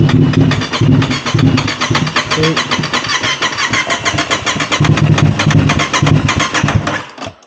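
An Aprilia RS660 motorcycle engine cranking with a rapid starter chatter, then rough, pulsing running as it tries to idle, loud and close before cutting out at the end.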